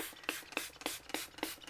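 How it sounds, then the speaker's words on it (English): Short, airy bursts from a spray bottle spraying coffee onto a paper stencil, about eight quick spritzes in an uneven rhythm, close and fairly quiet. "then you spray your stencil"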